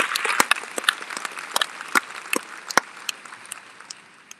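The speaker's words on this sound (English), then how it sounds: "I invite you to take a moment now and thank them for their support with a round of your own applause." Audience applause at a campus event honoring parents and families, a steady wash of many hands clapping with sharper individual claps standing out, fading slightly toward the end.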